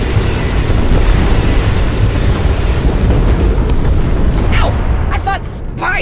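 Sustained, heavy cannon fire in the Star Wars: The Old Republic (SWTOR) video game forms a dense, loud, continuous roar for about five seconds, then drops away as a brief voice sound comes through at the end.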